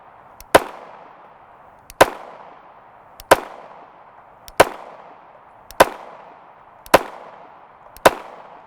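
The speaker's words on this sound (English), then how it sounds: "so I want to get some rounds down range in our dagger and see if we have any failure points" Dagger 9mm pistol firing 115-grain FMJ rounds outdoors, seven sharp, loud single shots spaced about a second apart, each followed by a short fading echo.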